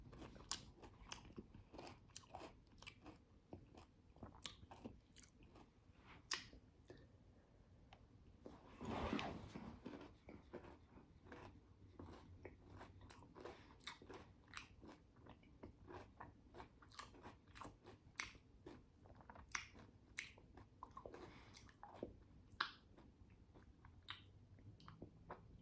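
Close-up, crunchy chewing of a Nestle Crunch chocolate bar with crisped rice, a long run of quiet, irregular bites and crackles and one louder rustling burst partway through.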